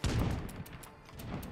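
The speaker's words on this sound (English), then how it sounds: "these guys are just constantly shooting." Rapid bursts of gunfire from survivors shooting zombies in State of Decay 2, a dense crackling fusillade of repeated shots layered over a loud rumbling background.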